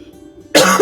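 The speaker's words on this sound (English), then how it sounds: "The goat coughs up a disgusting hairball." A goat in the video game Wytchwood coughs up a hairball: a sudden loud, raspy hacking burst that starts after a quiet lead-in and rolls on to the end, close and alone.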